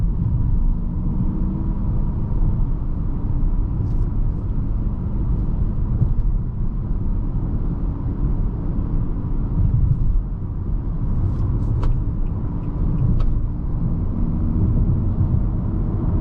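2021 Nissan Altima SR AWD with a regular 4-cylinder engine accelerating to pass another car, heard from inside as a steady low engine and road rumble with broadband wind noise, continuous and moderately loud, no voices.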